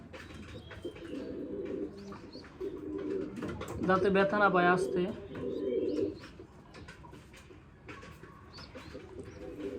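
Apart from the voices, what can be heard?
baby pigeon chicks during hand feeding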